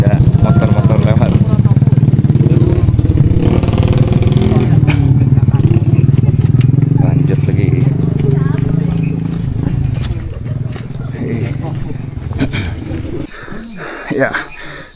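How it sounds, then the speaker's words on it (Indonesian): Several motorcycles grinding past on a steep mountain hiking trail on Gunung Gede, loud close engine drone with clattering, fading over about fifteen seconds while hikers talk. "Macet guys, ada motor-motor lewat."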